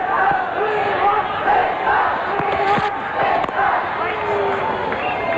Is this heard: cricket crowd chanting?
yes